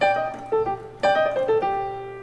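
Piano notes tumble quickly downward in a short, fast blues lick, played twice in quick bursts, clear and close.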